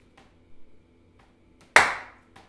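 One sharp, loud hand clap rings out with a short decaying tail during a body percussion routine, preceded by soft, faint foot steps and small taps.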